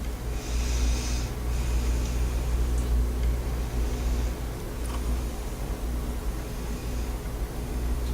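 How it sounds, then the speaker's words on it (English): A patient drawing slow, deep breaths during lung auscultation, a steady broad airy rush close and continuous, with no talk. "having my patient take deep breaths in as I listen to her lung fields"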